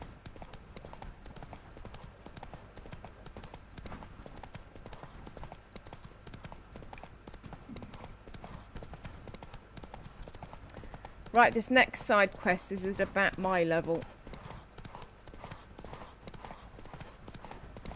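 Horse hooves clip-clopping in The Witcher 3 game, a steady rhythmic trot running throughout, with someone talking over part of it.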